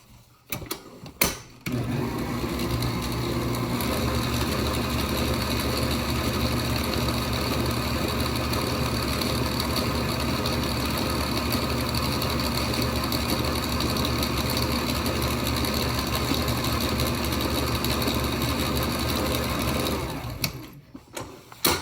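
An electric mixer whirs steadily through macaron batter for nearly twenty seconds, a continuous even motor drone starting and stopping with brief clicks.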